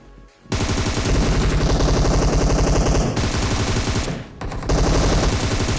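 Sustained automatic gunfire in a military base battle in a shooter game, long loud rapid bursts close by with a short gap before a final stretch, with no talking.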